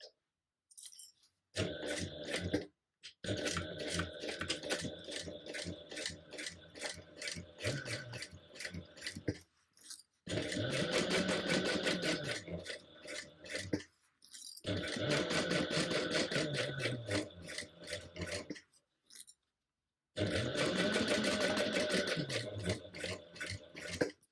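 Sewing machine stitching a basting seam about a quarter inch in to hold tote bag handles in place; three long runs of rapid rhythmic whirring and clatter separated by short pauses, close and fairly loud.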